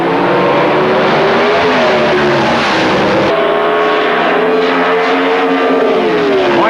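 Loud, roaring Super Stock drag racing cars launch down the strip at full throttle, the engine pitch climbing steadily as they accelerate hard, with a sharp shift partway through.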